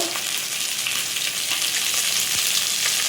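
Cumin seeds fry in hot oil for a Bengal arum and hilsa fish head curry, giving a loud, steady, close sizzle with faint stirring scrapes throughout.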